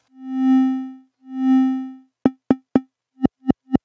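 Synth tones distorted by the compander clipper in the free M-Saturator plugin: two long buzzy harmonic-rich notes, then a rhythmic series of six short clipped blips, loud and dry.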